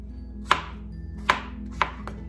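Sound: knife slicing a Hami melon

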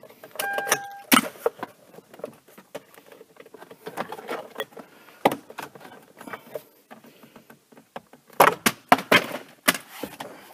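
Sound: prying steering column cover plastic with pick tool

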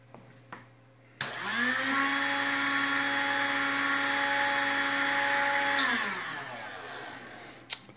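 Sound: heat gun running on APC Smart-UPS inverter

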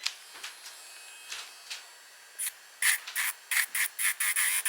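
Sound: baby sleep toy playing its sound

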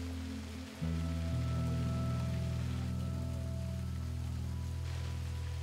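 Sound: waterfall cascade fed by rain and melting ice on Kilimanjaro

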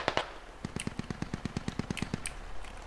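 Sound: gunfire in a war video game

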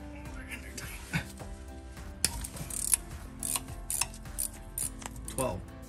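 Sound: wrench removing speed sensors from Q50 rear hub

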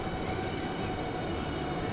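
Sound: ICE3 train passing in video game Transport Fever 2

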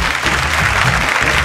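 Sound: audience applause welcoming TV show judges

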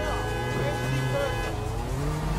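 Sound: mail truck passing by in the video game Sleeping Dogs

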